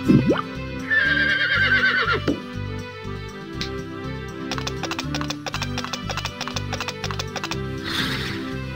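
A horse whinnies loudly near the start, then its hooves clip-clop in a steady rhythm over a musical backing, with a brief high whinny again at the end.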